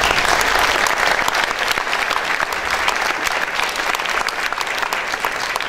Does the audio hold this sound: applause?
yes